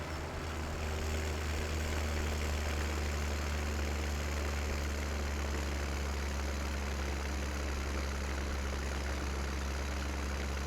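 A small Lower Hurlman tractor from Farming Simulator 17 idles steadily, a low, even engine drone that holds constant and close throughout with no talk over it.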